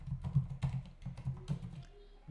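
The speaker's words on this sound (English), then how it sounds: "Typing in the password is the hardest part of this" Password being typed on a computer keyboard, a close run of quick, uneven key taps and clacks that trails off near the end, with no talking.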